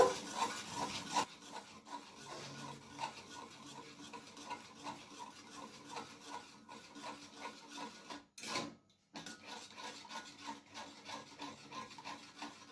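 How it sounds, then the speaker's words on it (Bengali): Yogurt and tomatoes are worked together in a pan with a spatula, producing soft continuous scraping and rubbing strokes at close range, briefly stopping near the end before resuming. "এরপর দইয়ের সাথে টমেটোকে ভালো করে মিশিয়ে নেব।"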